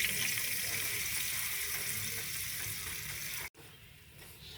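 Butter and flour sizzle steadily in a pan while making a white sauce for pasta, a loud continuous crackle that cuts off near the end, leaving a quieter hiss.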